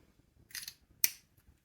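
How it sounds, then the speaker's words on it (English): A Pilot Prera fountain pen cap is worked twice: a soft brief rustling slide, then one crisp, sharp snap as it clicks shut, close and quiet in a still room. "Pilot Prera is also a pen I like a lot. It has a really satisfying capping mechanism."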